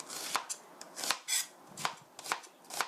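Knife slicing an onion about 0.3 cm thick on a cutting board for curry rice, a series of irregular crisp cuts and taps, close and alone.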